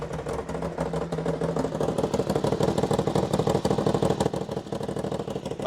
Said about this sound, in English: we're just warming it up